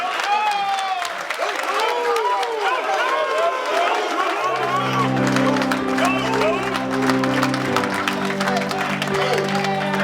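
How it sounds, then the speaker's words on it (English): Audience at a fraternity chapter anniversary celebration applauding, dense clapping and crowd noise that is loud and sustained, with voices and a steady tone joining midway. "I know that applause was for the hill"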